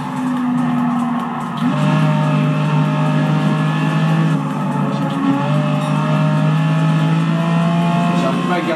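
A race car engine from the video game Gran Turismo on PS4 drones steadily, with shifting tones as the car accelerates and changes gear, loud and continuous with light tire noise.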